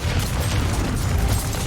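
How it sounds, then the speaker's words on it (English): Continuous rumbling explosions roll on for almost two seconds in Warhammer 40,000: Inquisitor - Prophecy, a loud, dense burst of booms with heavy low-end weight and no talk over it. "So let all of them explode"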